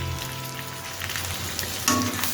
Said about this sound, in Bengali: আদাটাকে একটু ভেজে নেব যতক্ষণ না এর কাঁচা গন্ধটা চলে যায়।